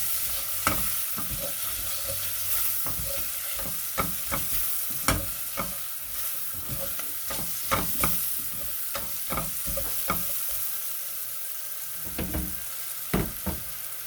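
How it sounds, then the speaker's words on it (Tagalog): Crushed black pepper sautéed in a hot pan, a steady sizzle with repeated sharp scraping strokes of a stirring utensil at an irregular rhythm, close and fairly loud, with no talking. "Sinasama ko sa gisa ang paminta."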